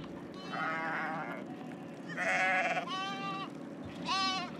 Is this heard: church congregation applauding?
no